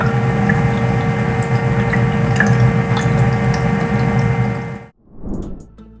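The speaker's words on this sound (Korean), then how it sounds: "소음은 모든 단계에서 약 42에서 44dB 정도로 초음파 가습기 중에는 소음이 큰 제품입니다" An ultrasonic humidifier hums steadily with a faint watery bubbling, close and constant, then cuts out abruptly near the end and leaves a brief low thump after.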